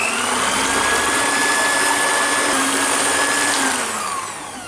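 A far breton batter with milk and vanilla sugar being mixed by an electric mixer, a steady loud whirring drone that holds throughout and eases off slightly at the very end, with no talking.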